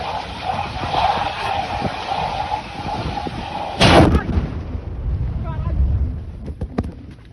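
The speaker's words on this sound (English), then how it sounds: "What you just saw now is a result of what we call boiling liquid expanding vapor explosion" A tanker BLEVE (boiling liquid expanding vapor explosion): a steady wind-buffeted roar, then one sudden loud blast followed by a rumbling decay, heard from a distance with outdoor ambience.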